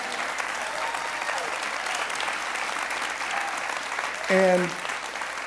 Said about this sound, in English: I heard someone applauding